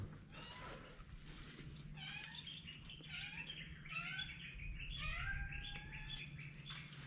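A cat meows repeatedly outdoors in Sri Lanka, its rising and falling calls coming in a steady series of short cries over a constant background hum, with some bird chirps mixed in.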